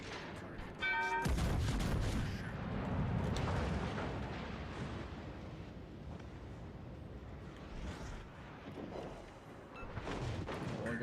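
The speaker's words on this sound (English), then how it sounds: "All stations, concentrate fire on the target." Ship guns firing on a target in a naval combat video game: a sudden heavy boom followed by a rolling, rumbling barrage of cannon blasts, with scattered further shots and low booming continuing at a moderate distance.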